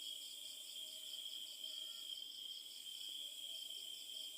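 Bush crickets chirp steadily at night in a continuous, even, high-pitched pulsing chorus, faint and distant, with no other sounds over it.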